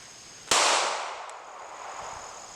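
A single sharp pistol shot from a Glock 19 Gen 6 cracks loud and close, then rings out in a long fading tail over steady background hiss.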